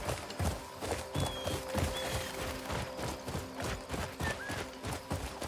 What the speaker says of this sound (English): I just ran my poor horse right into a bunch of nets